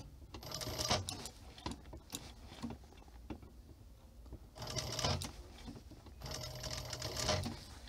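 A TK341 industrial sewing machine runs in short bursts of rapid mechanical stitching, each burst a few seconds long, with quiet pauses between them, heard close up and with no talking.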